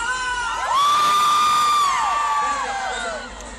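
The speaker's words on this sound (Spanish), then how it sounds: "¡Y el grito de ese lado!" A live concert crowd yells in unison on cue, a loud sustained roar with whoops that swells quickly, holds for over a second, then trails off.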